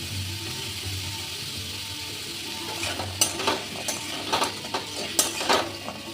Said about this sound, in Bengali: দিয়ে আবার ভেজে নেব।